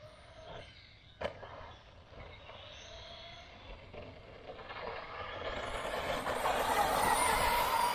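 A Kyosho Scorpion RC buggy runs and steers, its small motor whining steadily and rising in pitch and loudness as it speeds up, with a sharp knock early on and no voices.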